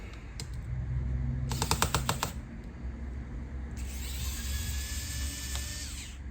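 Screws are being removed from the bottom of a Dell Latitude E7480 laptop, giving short buzzing whirs from a small powered driver and quick ratcheting clicks, close and fairly quiet, with no talk.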